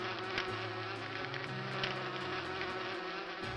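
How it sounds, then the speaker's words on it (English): Bees buzzing in the video game Inherit the Earth, a steady close insect drone with overlapping wavering tones, continuous and fairly quiet, with no talking. "Fly away, little bees."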